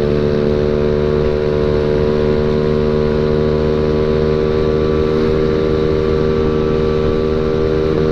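A standard Honda Beat scooter-style motorcycle fitted with a budget KJS exhaust runs on the open road, giving a steady, smooth, fairly quiet engine drone with constant harmonic hum throughout, no voices over it.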